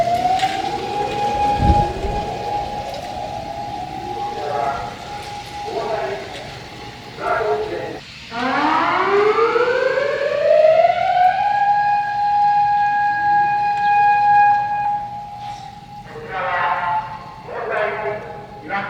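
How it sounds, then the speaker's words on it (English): Typhoon warning sirens wail in Iwakuni, Japan, rising and falling in long sweeping tones over a steady background, with a second siren sweep joining midway. "the sirens and alarms are going off again"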